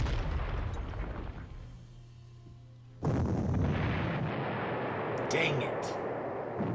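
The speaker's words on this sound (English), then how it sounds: "Those stupid artillery and their AA, I need to take care of both of them." Artillery fires in a World War II strategy game set around El Alamein with the Afrika Korps: a deep rumbling barrage that swells into a loud, sudden boom and sustained roar, while a voice speaks briefly.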